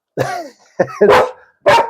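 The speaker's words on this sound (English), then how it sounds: "Please don't bark, sweetie." A pet dog barks and yips close by, about four sharp, loud bursts in quick succession with brief gaps between them.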